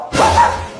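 A person imitates a dog's bark with a single short, loud, breathy woof, close to the microphone.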